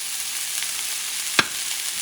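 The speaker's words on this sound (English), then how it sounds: "what you're doing now is mixing everything. The spices, the sofrito, and of course," A spoon stirs spices, sofrito and shrimp in a frying pan for rice with shrimp: a steady, soft sizzle underneath with one brief sharp scrape or tap midway.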